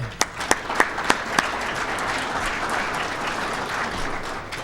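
An audience at a school-district event claps warmly to thank a sponsor, with a few sharp individual claps at the start before sustained applause fills the room.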